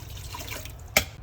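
Water is poured into cooking dal for sambar in a home kitchen, giving a steady wet rush with a single sharper splash near the end.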